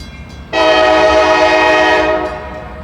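A CSX freight train's air horn sounds loud and close at a railroad crossing, a sustained rich chord that begins abruptly and holds for nearly two seconds before cutting off, with rumbling rail noise underneath.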